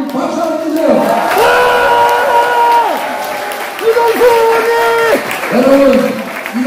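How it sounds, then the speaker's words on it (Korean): A crowd at a political rally in Incheon cheers and claps, with loud sustained shouts and chanting voices rising over the applause and pausing briefly before surging again. "우리 유동수 의원님 박수 한번 주세요"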